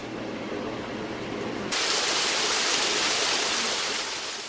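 An artificial indoor waterfall at a hospital makes a broad, continuous rush of falling water that grows louder and brighter partway through. It is steady and close with no speech.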